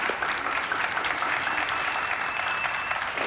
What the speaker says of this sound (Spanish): Aplauso, muy bien.